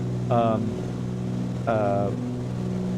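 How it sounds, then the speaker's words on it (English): Twin-engine Cessna 414 in the MSFS2020 flight simulator running at high power, a steady, even engine drone with two short, brighter rising bursts over it. "You can see it almost sounds too much for the engine. It just got that, it's revving a little bit too hard"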